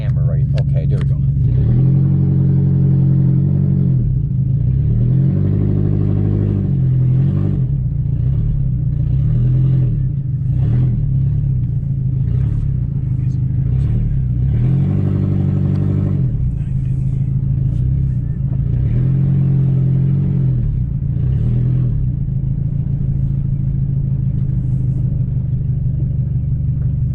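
A 1999 Toyota RAV4 all-wheel-drive SUV converted to a snowplow truck rumbles steadily in reverse, its engine droning close by with slight surges, while someone talks over it.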